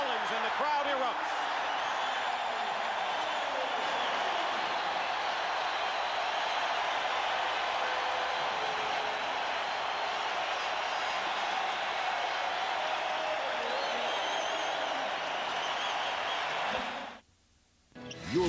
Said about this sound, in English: Timeout will be called by Doug Collins, and the crowd erupts.